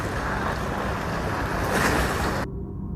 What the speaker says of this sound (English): 现在这是太平湾水电站放水